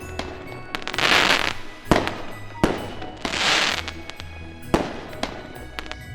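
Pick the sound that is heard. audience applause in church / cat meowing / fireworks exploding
fireworks exploding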